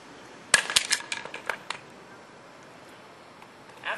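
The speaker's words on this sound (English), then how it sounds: "I'm going to take a 5-pound sledgehammer and I'm going to hit both of our samples" A 5-pound sledgehammer strikes an architectural product sample resting on asphalt, giving a cluster of sharp, fairly faint impacts and scraping clatter at the start, then quiet.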